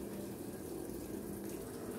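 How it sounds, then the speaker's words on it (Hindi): Water pours steadily into a Haier automatic washing machine as it fills, a continuous close rushing flow with a low hum and no voices. "ये देखें अभी अपना वो पानी पूरा कर रही है मशीन।"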